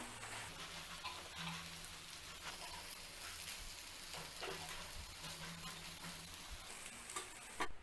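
Eggs frying in a pan for egg curry and being broken up, a faint, continuous crackling sizzle with soft scraping and occasional taps from the utensil, without any talk.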